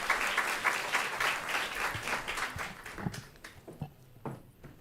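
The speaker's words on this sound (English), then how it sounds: "Continue the applause" Audience applause for a panel at a talk on regenerative food, loud and dense at first, then thinning into scattered claps that fade out toward the end.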